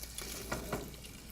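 Scallops sear in a hot pan with a steady broadband sizzle, broken by a few brief louder pops and spatters, close and continuous throughout.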